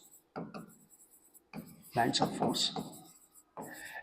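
Writing on a board during a physics lecture on electric lines of force: scratchy strokes come in short bursts, close by, mixed with a teacher talking.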